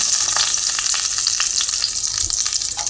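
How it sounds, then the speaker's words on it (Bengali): Whole garam masala spices sizzle and crackle in hot oil, a loud, close, steady frying hiss with rapid popping throughout. "এবার এর মধ্যে আমি গোটা গরম মশলা ফোড়ন দিলাম"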